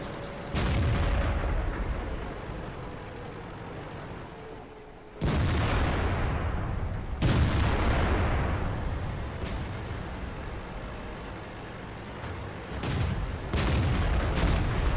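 A KV3 heavy tank firing its cannon in World of Tanks: several loud, close booming shots with long rumbling decays, the strongest near the middle and a few sharper reports toward the end, with no voices.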